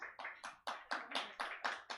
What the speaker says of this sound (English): give it up for them for coming out tonight